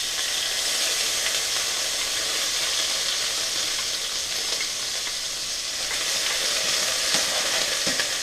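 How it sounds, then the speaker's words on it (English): Pimento, hot pepper, garlic and ginger sizzle and fry steadily in a hot pot, a loud continuous hiss with faint stirring clinks, no voices. "So I want to get my pimento, my hot pepper, my garlic, and my ginger into this pot."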